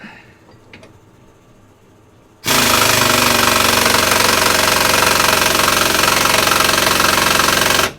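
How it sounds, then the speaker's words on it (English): After a short quiet stretch, a loud, rapid metallic hammering on the rear wheel hub of a 2013 Vauxhall Insignia bursts in and pounds on steadily, close and harsh, until it stops abruptly at the end. "So just going in with the hammer here like that."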